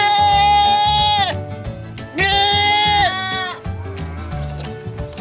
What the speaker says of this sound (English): One baby goat.